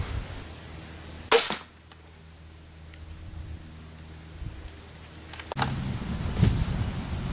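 A Ravin R10 crossbow is fired at a target 20 yards away outdoors, giving one sharp, loud snap followed by quiet background hum, then a softer thud or click a few seconds later.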